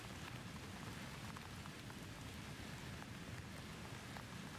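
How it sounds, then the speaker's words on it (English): Cold rain patters steadily against window glass, a dense, even hiss of drops with no pauses, close and continuous throughout. "A cold rain falls one afternoon. It taps against the windows."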